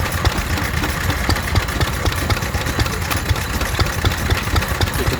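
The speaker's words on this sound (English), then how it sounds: "water-cooled stationary engine, driving a reduction box, driving a bandsaw sharpener" A water-cooled stationary engine drives a bandsaw sharpener through a reduction box at a steam rally, running in a steady, loud, close idle with a rhythmic low knocking beat throughout.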